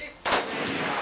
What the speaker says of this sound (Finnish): Tarkka ammunta kiväärillä.